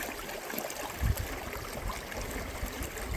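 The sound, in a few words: wild river flowing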